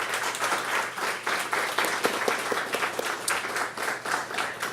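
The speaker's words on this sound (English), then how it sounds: "Give them all a round of applause." Audience applause at a culinary tour event, a steady wash of many hands clapping close and loud for several seconds without a break.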